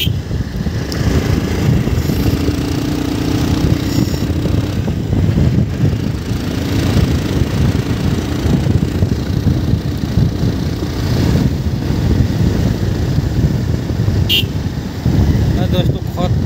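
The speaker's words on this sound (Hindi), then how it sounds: "मेरा भाई बाइक हाँक रहे हैं भाई" Motorcycle ridden along a village road, its engine a continuous mid-level rumble with wind noise throughout, while someone talks over it at times.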